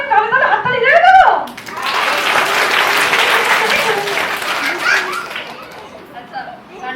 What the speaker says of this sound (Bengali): তাহলে হাততালি দিয়ে দাও।